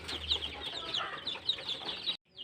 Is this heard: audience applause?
no